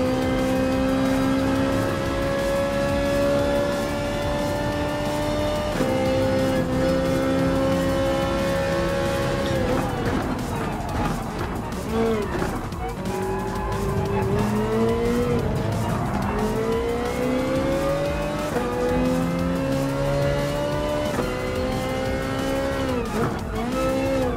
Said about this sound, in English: now let's try and overtake on the Honda and the Dodge Viper